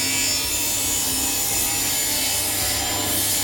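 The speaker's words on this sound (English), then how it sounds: "I'm just drilling the other side of these vent holes." Drilling vent holes through a wooden cabinet in a camper van kitchen build, a loud, continuous grinding bite into the wood held steady for several seconds at close range.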